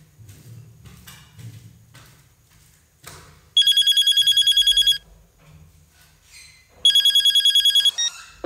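A telephone rings in two bursts of rapid electronic trills, each lasting about a second and a half, loud and close in a quiet room, with a few soft knocks and faint background movement between them.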